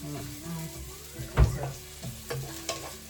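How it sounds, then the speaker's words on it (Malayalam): Onions frying in oil with a pinch of sugar for chicken biryani give a steady close sizzle, broken by a couple of sharp spoon scrapes and clatters as they are stirred. "സവോള ലേശം പഞ്ചസാര ഇട്ട് കൊടുത്തു കഴിഞ്ഞാൽ പെട്ടെന്ന് ക്രിസ്പി ആവും"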